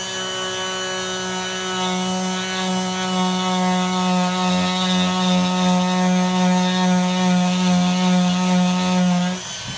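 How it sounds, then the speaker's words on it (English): A handheld sander evens out the surface of leather shoe soles, giving a loud, steady whirring hum with a strong tonal drone that runs continuously for nearly ten seconds before cutting off at the end. "So what I'm doing here is I'm going to take the sander. I'm just going to even out some inconsistencies."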